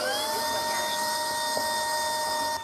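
A Proscenic F20 wet floor vacuum cleaner runs its roller-brush self-cleaning cycle, giving a loud, steady high-pitched motor whine that holds evenly throughout, with no voices.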